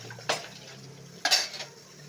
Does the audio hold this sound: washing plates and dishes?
yes